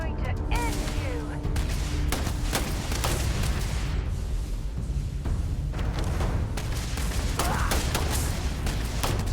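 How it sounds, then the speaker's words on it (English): A grenade blows up during a Starfield firefight, lost inside a constant, dense roar of booming blasts and gunfire that runs loud and unbroken the whole time. "Oh, grenade."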